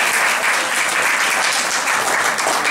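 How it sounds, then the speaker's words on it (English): Dense, loud audience applause fills the short stretch evenly, a steady roar of many hands clapping at a community reading event. "Round of applause."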